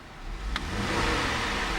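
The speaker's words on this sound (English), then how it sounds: "I'm going to rev the engine." A 2011 Cadillac CTS Coupe's 3.6-liter V6 revs up from idle, a steady close engine rise with a brief high click early on, no talking over it.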